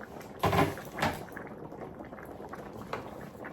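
Catfish pepper soup bubbles in a pot at a steady simmer, broken by a couple of clattering knocks of a lid or utensil near the start and a lighter clink later.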